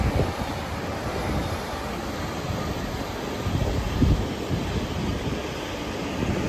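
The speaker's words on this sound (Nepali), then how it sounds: "ट्रेन अब मेट्रो ट्रेन आयो एउटा मिठो।" A metro train on a line heading toward London rumbles steadily and evenly throughout, a dense, continuous roar with no clear rise or fade, and no voices.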